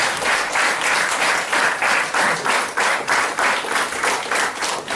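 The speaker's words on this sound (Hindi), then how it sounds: "एक बार डॉक्टर सवेरा सर को जोरदार ताली।" A seminar audience bursts into strong, sustained applause, with many hands clapping together in a loose pulsing rhythm that stays loud for several seconds.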